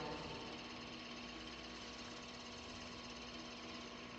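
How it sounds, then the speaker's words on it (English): Steady lathe whir drilling a hole in steel, with a constant hum and faint rhythmic grinding underneath, running evenly throughout with no voices. "So we'll drill a hole in here for the pocket"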